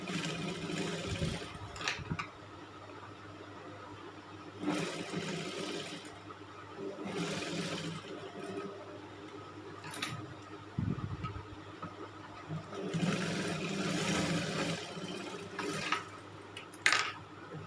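A sewing machine stitches pleats and lining on a 44-inch nighty in several close bursts of motor whirr, separated by short pauses with a brief knock or clatter toward the end.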